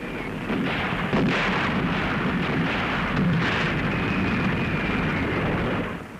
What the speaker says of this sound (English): the infantry goes in under heavy fire to clear out snipers and machine gun nests